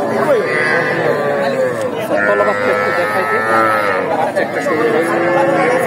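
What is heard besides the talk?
Friesian cattle mooing at livestock market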